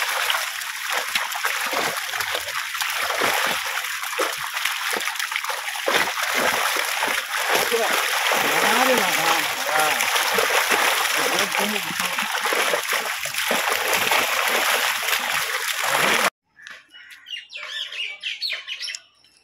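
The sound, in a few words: water splashing from a caught fish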